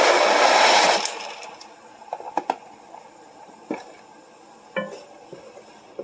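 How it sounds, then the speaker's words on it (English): Dry pasta tipped into a pot of boiling water, with a tablespoon of oil going in, while cooking a five-ingredient ground beef pasta. A dense rushing clatter lasts about a second, then scattered light clinks and taps follow. "I'm going to add the pasta to it and a tablespoon of oil"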